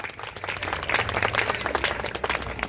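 Loud, sustained applause fills a crowded Bhagavad katha religious gathering in Sant Nagar, dense clapping running steadily throughout with no speech over it.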